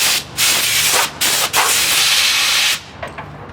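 Compressed air from a pressure line blasts through a wire braided hose in loud, close hissing bursts, several long rushes broken by short gaps, then faint trailing puffs.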